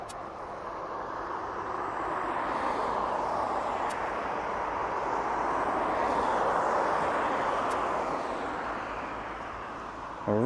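Aircraft at East Midlands Airport roaring steadily as it passes at a distance, a broad engine rush swelling and fading over several seconds with no talk.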